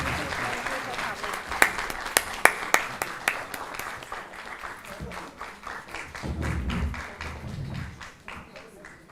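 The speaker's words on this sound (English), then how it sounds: "Can we have a round of applause for Ambassador Dilip Sinha?" A round of applause from a panel discussion audience for a departing ambassador, with several sharp individual claps at first building into a moderate crowd clapping, with voices murmuring underneath.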